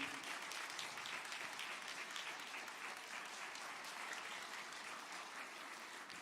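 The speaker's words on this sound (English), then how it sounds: "give them a hand clap of appreciation" Graduates at a fifth grade school graduation ceremony applaud their parents, a steady, dense wash of clapping from a large group that holds at an even level throughout, with no voices standing out.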